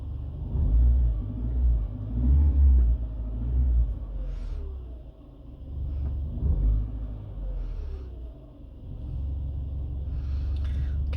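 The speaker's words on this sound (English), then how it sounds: "if I rev the engine" A Fiat 500 engine revs up while the car sits stationary, giving a loud, low, continuous rumble that swells and eases in a few surges over about eleven seconds, with no talk over it.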